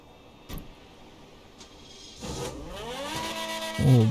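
Fully modified luxury car in GTA V revving up after a few faint clicks, the engine rising in pitch in a sweeping climb and ending in a louder burst, near and without talk.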